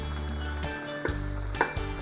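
Egusi soup of blended melon seeds and tomato paste sizzles and bubbles in a pot, a steady frying hiss broken by a few louder pops and stirring knocks.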